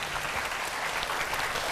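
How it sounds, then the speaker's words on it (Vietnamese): Steady applause from a crowd, continuous and fairly full, with no gaps across the short stretch. "vỗ tay cho anh làm nè mọi người"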